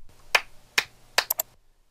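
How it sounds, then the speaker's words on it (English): Three sharp hand claps are spaced evenly and close to the microphone to mark edit points on a recording, followed by two quicker softer taps, then silence. "we basically indicated those places by clapping 3 times where we need to go on our timeline to correct"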